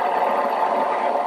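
A Komo grain mill grinding flour, re-milling coarse flour, a steady close mechanical whirring drone with an even, unbroken level and no talk.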